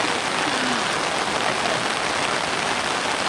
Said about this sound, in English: Look at that water gushing through there.